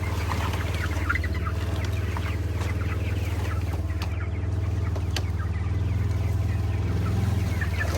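Several young chickens cluck and chirp steadily inside a newly built chicken tractor, heard close over a constant low hum with no speech.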